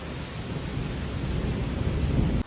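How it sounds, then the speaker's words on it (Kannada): Heavy rain pours down in a dense, continuous roar with deep rumbling thunder beneath it, loud and close, cutting off abruptly at the end. "ಹೆವಿ ಮಳೆ ಬಂತು"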